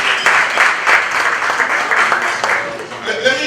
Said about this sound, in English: Round of applause to Juliette, Dr. Juliette Welcome.